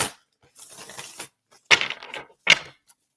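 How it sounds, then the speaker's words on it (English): Two short bursts of crisp, riffling clatter, like a deck of cards being shuffled, after a softer rustling stretch; close by, with no talking. "let's make sure that the cards are shuffled"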